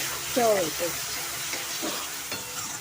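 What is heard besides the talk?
onion and tomato frying in oil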